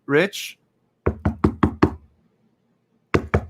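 Knuckles rap on a front door in two bursts, five sharp knocks, then a pause, then three more, with a short voiced sound just before the first knock.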